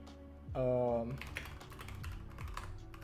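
Soft, rapid clicks of a computer keyboard being typed on continue in a steady, irregular patter, close but quiet, after a brief voiced sound near the start.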